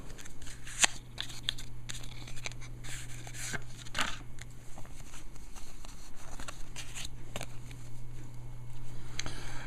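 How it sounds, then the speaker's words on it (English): Crinkly tearing and rustling of a rare Zenith Zener ESP card pack being opened by hand, a run of close, irregular scratchy crackles and small snaps over a steady low hum. "Let's open the pack and take a look and see what we got."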